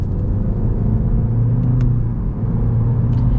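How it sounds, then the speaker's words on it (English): A 2021 Honda Civic Sport with a CVT accelerates in manual shift mode, its engine droning steadily with a smooth, continuous whir heard from inside the cabin. "We're gonna pop it over into the manual shift mode here, and then we'll get our full-blown acceleration."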